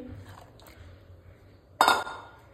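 Soaked kidney beans tipped into a pressure cooker make a sudden clatter of beans striking metal, a short burst after quiet kitchen background.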